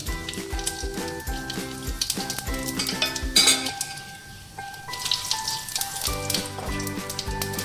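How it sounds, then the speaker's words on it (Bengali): Cumin, nigella seeds and a dried chilli crackle and sizzle in hot oil, with sharp metallic taps of a spoon against the pan and tonal kitchen hum running through; the sizzle thins briefly midway before swelling again. "তেলে সাদা জিরে কালো জিরে দিলাম একটা শুকনো লঙ্কা দিলাম"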